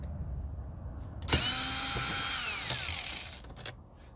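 A power tool spins out a bolt on a 2011–2013 Infiniti QX56 or QX80 or Nissan Armada SUV, a close, loud whirring burst about two seconds long that winds down, with a few light clicks around it.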